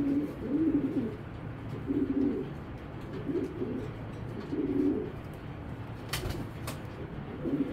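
Large, healthy racing pigeons give deep, rolling coos in regular bursts about once a second, close and fairly loud, with a brief flutter or scrape near the end.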